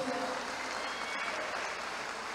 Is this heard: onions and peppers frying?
no